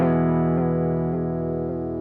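A Chase Bliss Warped Vinyl pedal holds a steady sustained tone, warbled by triangle and square waveform modulation that pulses at a regular rhythm about every half second, loud and even, with no voices.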